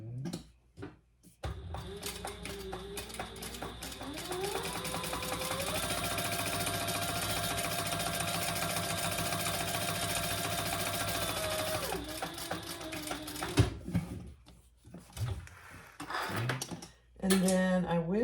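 A sewing machine top stitches a sling bag made from a retro tech sling pattern, a steady loud mechanical whir running for about ten seconds with speed shifts, then stopping for brief handling clatter and a short restart.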